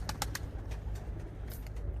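Pigeons, about 40-50 of them, cooing softly amid a low rumble, with a few quick flutters or calls near the start; no voices.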